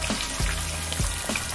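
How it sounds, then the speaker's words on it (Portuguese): Breaded picanha steak sizzles in a pan, a close, steady crackle of hot oil with a few soft knocks. "Bora fritar."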